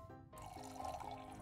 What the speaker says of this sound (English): He's pouring the wine.